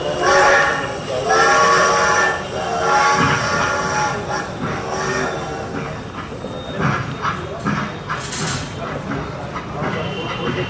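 A train running on rails, a loud continuous rumble and clatter with whistle-like tonal bands, heard over people talking throughout.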